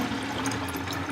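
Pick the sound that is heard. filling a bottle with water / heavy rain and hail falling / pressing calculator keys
filling a bottle with water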